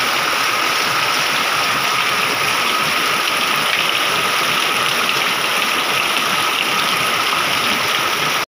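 Heavy rain pours down in a constant, roaring wash of noise, loud and unbroken until it cuts off abruptly at the end.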